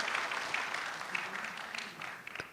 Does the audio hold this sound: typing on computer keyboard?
no